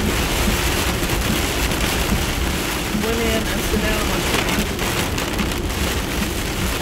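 Pouring rain drums steadily on surfaces close by, a dense constant wash of drops throughout, while a person speaks briefly over it midway.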